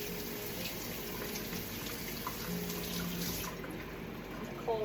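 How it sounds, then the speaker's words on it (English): Golden beets rinsed under a cold kitchen tap, a steady soft stream of running water with a faint background hum, no clear talk, and a brief clatter at the very end. "So I'm going to rinse it."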